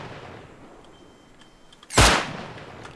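A single sharp, loud gunshot from a weapon in the video game Red Island Raiders cracks out about two seconds in, then trails off over faint background tones with no talking.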